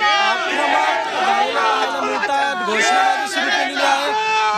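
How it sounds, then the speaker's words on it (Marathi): Party workers crowd outside the legislative building during a vote: many voices shout and chatter together in an excited, continuous hubbub, loud and close with rising cheers. "विधान भवनाबाहेर कार्यकर्त्यांची गर्दी"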